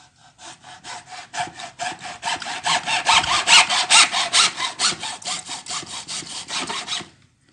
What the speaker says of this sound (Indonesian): kita tinggal potong seperti ini pakai gergaji ataupun pakai yang lain